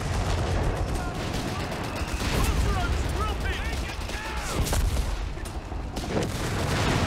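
Dense rumbling bursts of artillery fire and explosions from Company of Heroes 3, continuous booms with scattered whistling shells, mixed with faint voices.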